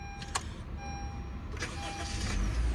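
A new car's engine starts up, a 1200 CVT with only 5 km on it, turning over and catching into a low idle, with a few brief clicks and knocks nearby.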